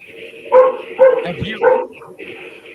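Two golden retrievers bark indoors in three loud, evenly spaced barks close by, with a softer whine between them.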